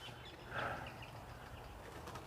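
Native twenty-eight parrots calling beside a slowing Australian river during spring bream fishing; a brief burst of bird sound rises midway over steady outdoor ambience, moderately distant and faint.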